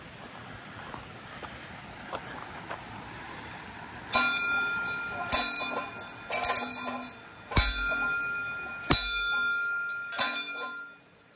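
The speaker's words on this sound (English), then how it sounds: "I'm ringing the bell." A trail bell on the Nakasendo trail in Japan, rung by hikers: five or six bright metallic strikes at an uneven pace, each ringing on, close and clear over a quiet outdoor background.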